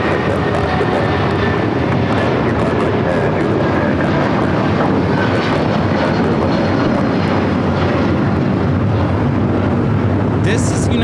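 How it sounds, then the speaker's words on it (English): A United Airlines Boeing 757-200 takes off, its engines a loud, steady broadband roar that fills the whole stretch without letup, with faint voices mixed into the noise. "This is United Airlines 2127 taking off to Newark on the 757-200"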